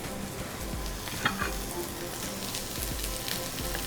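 Garlic and onion sauteing in melted butter in a pan, a dense steady sizzle and crackle with scattered pops, continuous and fairly close throughout.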